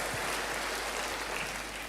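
A church congregation applauds together, a steady wash of clapping that holds at an even level from start to finish with no talk on top.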